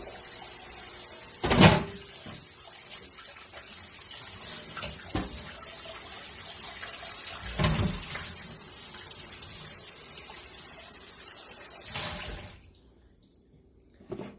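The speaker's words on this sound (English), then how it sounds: "I'm just going to give it an extra wash in this bowl" Running tap water splashes steadily while a Pyrex bowl is washed at a kitchen sink, with a few louder clunks and splashes, before the flow cuts off near the end, leaving quiet.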